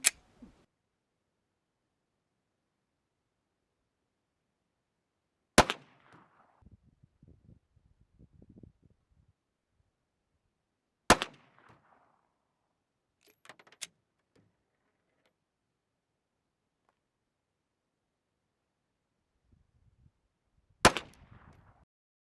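Four sharp, loud 9mm Glock pistol shots loaded with 5.5 grain reloads ring out about five seconds apart, each followed by a brief rattle of echo and handling noise, with quiet stretches between.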